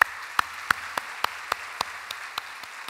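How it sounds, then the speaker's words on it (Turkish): A small audience at a quality congress applauds with sparse, distinct claps, about ten separate sharp hits spread evenly over a few seconds in a quiet room. "Onun için gençler için, onların şu anki heyecanını yenmek için bir alkış rica ediyorum."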